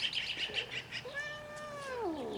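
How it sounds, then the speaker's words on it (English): A cat gives one drawn-out, rising-then-falling meow, fairly quiet and a little distant, over steady background hiss with no talking. "This is our new cat."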